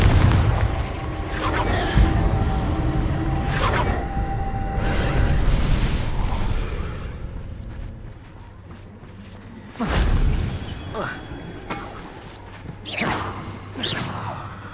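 Confringo fire spell from the Hogwarts Legacy video game: loud booming blasts with whooshing rumble, a long sustained roar and then more sharp impacts later, with no talking.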